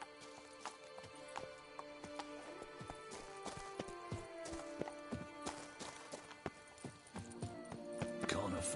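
A horse gallops at a constant pace in a PS4 video game, with steady rhythmic hoofbeats running throughout over background music, and a brief whinny near the end.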